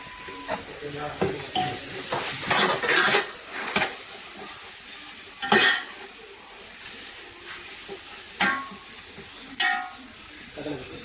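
Coriander, mint and green chilies being sautéed in a pan for chicken kurma, with a steady background sizzle and hiss and repeated bursts of stirring and scraping against the pan.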